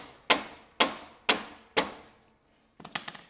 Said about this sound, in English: I'm going to take a mallet.